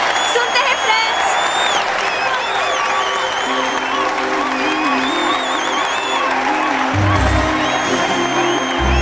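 An audience breaks into sustained applause and some cheering at a school-style poetry recital, loud and continuous, with a tonal music-like line and talk running over it.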